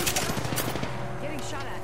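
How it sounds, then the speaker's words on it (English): Gunfire in a shooter video game, rapid overlapping shots forming a dense burst that runs through the whole short stretch alongside other game sounds. "Getting shot at."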